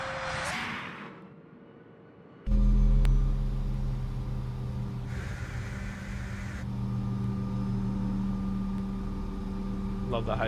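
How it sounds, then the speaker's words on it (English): Hydraulic whine and pump hum of an Aerosoft CRJ900 airliner in Microsoft Flight Simulator, a steady layered drone that kicks in abruptly, with a higher tone rising and falling midway, under a voice. "Love the hydraulic noise."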